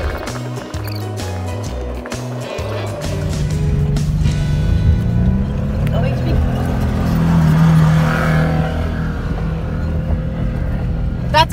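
An off-road vehicle in the Arizona desert near a remote bar runs with a loud, steady engine rumble that builds partway through, a low rough drone that goes on under wind and background noise.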